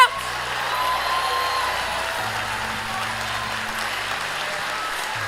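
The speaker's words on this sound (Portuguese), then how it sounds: "Mistura essas palmas com glória a Deus" Church congregation claps during a sermon, a steady dense patter of many hands at moderate loudness, with low sustained instrumental tones underneath.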